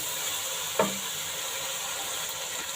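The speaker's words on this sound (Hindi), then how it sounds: "अब हम इसको 5-7 मिनट के लिए अच्छे तरीके से इसकी बुनाई कर लेंगे" Boiled beef sizzling while being roasted in a pan for Beef Teendi Ka salan, a steady soft frying hiss with one brief clink near the start, quiet and continuous.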